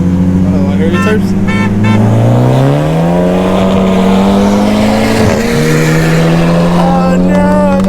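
Turbocharged Ford Focus ST pulling hard under full acceleration, engine note climbing steadily through the revs with a gear change and continuing to rise, heard loudly from inside the cabin while occupants talk over it.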